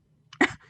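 A single short cough burst from someone who has choked on water, close and fairly quiet, with a faint lead-in and a low murmur trailing after.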